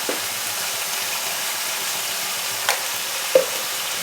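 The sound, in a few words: stirring turmeric and salt into vegetables in a pan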